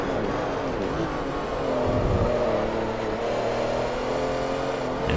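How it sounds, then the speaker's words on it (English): A Porsche race car engine in Forza Motorsport 3 holds a steady, loud drone while cruising on track, its tone shifting slightly in pitch with no pauses. "Just cruising right along in our Porsche."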